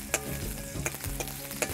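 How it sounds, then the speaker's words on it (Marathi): Raw mango pieces stir-fry in a hot pan with a steady close sizzle, while repeated scraping and clinking strokes of the spatula come in a loose rhythm, with no voices. "तोराच्या फोडी घालून मातशें अशें परतूंक जाय."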